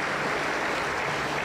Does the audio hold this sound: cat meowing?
no